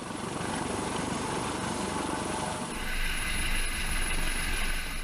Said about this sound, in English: the system will bring the helicopter to a stable hover 50 feet above a selected object